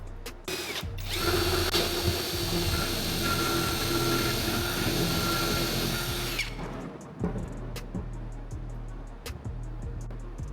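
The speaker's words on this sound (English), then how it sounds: "Pre-drill the holes because I'm gonna use screws." A power drill pre-drills screw holes in wood while a custom ported speaker box is built, whining loud and steady for about five seconds, then stopping, followed by quieter knocks and handling sounds.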